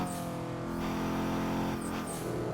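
A turbocharged Mazda MX5 running hard on the Nordschleife, a steady loud engine drone with a brief dip and surge as it shifts between gears, heard from inside without talk.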